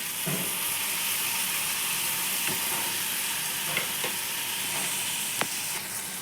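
Masala for a potato and brinjal curry fries in a pan, giving a steady close sizzle with occasional stirring clicks and scrapes throughout, no voices.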